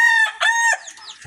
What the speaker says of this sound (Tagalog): mga panabong natin